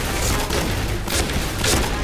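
Dense, booming gunfire in the shooter game Point Blank, a shotgun blasting in quick bursts, loud and close, filling the whole moment with no voice on top.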